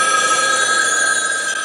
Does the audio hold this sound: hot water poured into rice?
no